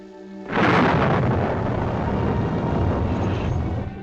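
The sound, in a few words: thunderstorm in the Catskills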